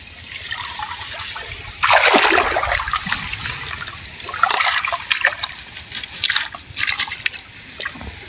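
Water is poured out in a paddy field during a ring-net prawn fishing trip. It gushes and splashes in uneven surges, swelling loudly around the middle, then trickles and splashes more lightly without pause.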